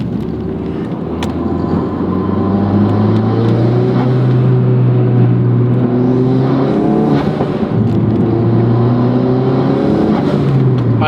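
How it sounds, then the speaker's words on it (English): Tuned 415 hp Ford Focus RS accelerating hard, loud and close, engine tone climbing and dropping through gear changes while the turbo spools and blow-off hisses cut in between pulls, no talk. "that turbo blow off and building up and spooling is really lovely"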